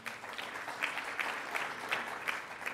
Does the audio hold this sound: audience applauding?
yes